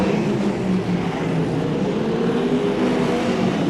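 Sprint cars racing around Brisbane Speedway during a track championship heat, a dense, continuous, loud engine roar with no breaks.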